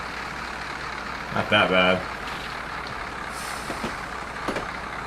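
A train in the video game Train Simulator 2016 brakes, and a sharp burst of air-brake hiss rises above a steady rumble. A brief tonal tone sounds before the hiss, and a voice speaks briefly.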